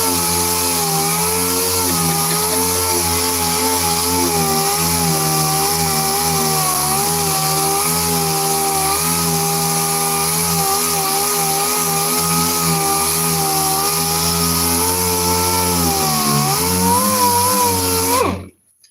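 A power sander sanding paint on a yellow Dodge whines steadily and loudly for a long stretch, its pitch wavering slightly, then stops abruptly at the end.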